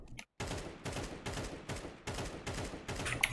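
Rapid, repeated rifle shots from the video game CS2 fire in a steady rhythm of bursts, loud and close, with a brief pause before the volley begins.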